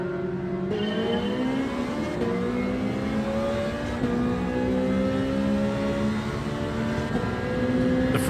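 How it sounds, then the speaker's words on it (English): A Gran Turismo 7 Ferrari race car pulls away from the start at Laguna Seca, its engine climbing through the revs in a loud, steady, rising whine, with other cars buzzing close around it and no talking. "The Ferrari is so good off the start."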